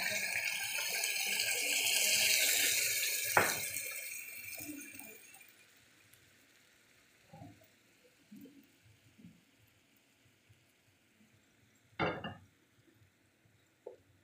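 Water poured from a container into a pan of sautéed ground meat with potatoes and carrots, a soft splashing pour in the first seconds, followed by quieter kitchen clinks and a couple of sharp knocks.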